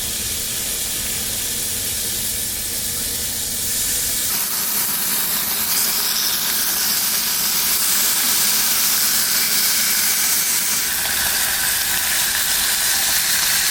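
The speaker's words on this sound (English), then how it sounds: "We've got the bacon frying up." Bacon sizzles and spits steadily in a pan at a winter campsite aboard a pontoon boat, a continuous close hissing fry that swells slightly louder partway through, with no talking over it.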